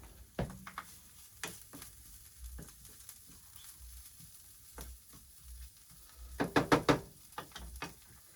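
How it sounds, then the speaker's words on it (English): A small piece of butter melting over lowered heat in a pan for scrambled eggs, a faint quiet sizzle with scattered knocks and clatters of cookware, including a quick cluster of taps near the end. "I'll put just a little piece of butter in"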